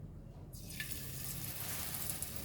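Hash brown patty frying in olive oil, a steady bright sizzle that swells in after a quiet half-second start and holds close and constant throughout, with no talking.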